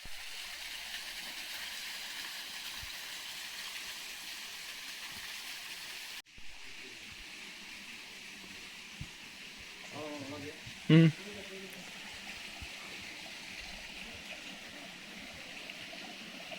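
Water runs steadily at a temple, a soft continuous broadband rush through the whole stretch, with a brief louder knock near the end and faint distant voices.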